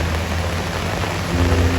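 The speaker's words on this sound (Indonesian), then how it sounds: "hujan ini tidak akan selesai" Heavy rain falls steadily at an outdoor Bondres comedy performance for a town anniversary in Bangli, Bali, a dense, continuous hiss with a low rumbling undertone, loud and close, with no voices.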